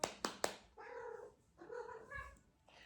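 A domestic cat indoors gives two drawn-out meows, following a few quick soft taps, close by with no talking.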